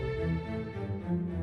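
Castle music from the Dragon Quest HD-2D game: a quiet, sustained orchestral passage of layered harmonic tones with slowly shifting notes, played alone without talk.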